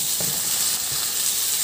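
Tomatoes hit sautéing garlic and onion in a hot pan, giving a loud, steady, close hiss of frying with a faint soft bump near the start and no voices.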